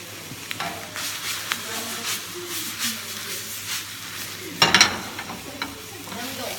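Beef frying in a pan for tacos, a continuous sizzle with stirring scrapes and a sharp burst of hissing spatter near the middle, fairly close.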